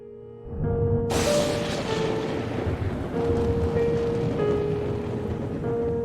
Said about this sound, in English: Do you hear that thunder?